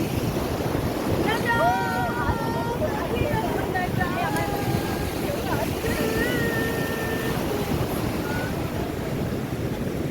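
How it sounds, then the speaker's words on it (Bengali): Broadband wash of surf and wind fills the scene, with voices chattering intermittently over the steady roar. "চলে এসছি আমরা দেখো সমুদ্রে"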